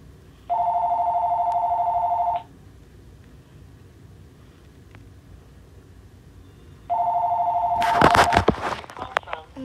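A telephone rings in two electronic bursts of rapid trilling tones separated by a few seconds of quiet room noise, followed by clattering handling sounds as a scam call comes in.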